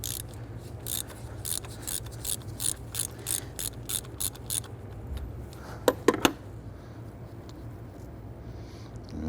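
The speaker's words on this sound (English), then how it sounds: "We're gonna use a 3/4-inch socket, deep socket, loosen and remove our coolant temp sensor" Ratchet with a 3/4-inch deep socket loosens the coolant temperature sensor on a 4.7L V8 1999-2004 Jeep Grand Cherokee, a run of about a dozen rhythmic clicking bursts, then a few sharp metallic clinks.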